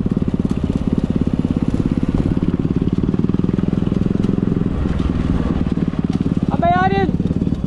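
Motorcycle ridden with a passenger carrying a bag, the bike leaning to one side, its engine a steady close rumble throughout, with voices talking over it.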